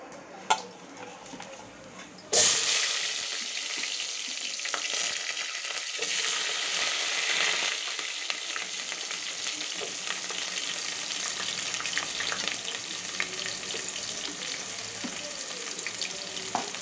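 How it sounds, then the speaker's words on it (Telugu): Onions, green chillies and curry leaves drop into a hot pan for mushroom biryani, bursting into a loud, steady sizzle that keeps crackling close up with faint stirring ticks. "వేగిన తర్వాత ఒక 2 పెద్ద ఆనియన్స్ కట్ చేసి వేసుకుంటున్నా"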